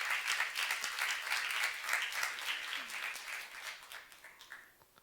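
A church congregation at a youth service claps together, a fairly faint, steady round of applause that fades out toward the end.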